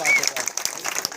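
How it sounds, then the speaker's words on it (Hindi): Applause from a community gathering crowd honoring an elected waqf board member, a brief burst of clapping mixed with voices. "जरा ताकतवर तालियां"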